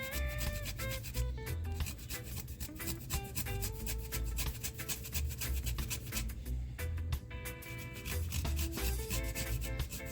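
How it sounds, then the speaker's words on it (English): Fresh ginger is scraped back and forth over a grater, a close, continuous rasping with quick rhythmic strokes and no talk. "So guys, I'm grating my ginger."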